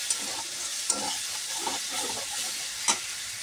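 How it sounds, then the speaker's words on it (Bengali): Paneer red curry masala, with a little sugar, is stir-fried in a pan: a steady, close sizzle runs throughout, broken by a few sharp spoon-scrape clicks as it is stirred, with no talking. "কষিয়ে নিচ্ছি"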